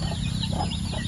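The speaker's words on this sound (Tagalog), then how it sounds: "Ito yung mga sisiw natin bago pisa." Newly hatched chicks and chickens at a poultry farm cheep and cluck close by, a dense continuous chorus of small bird calls over a low steady hum.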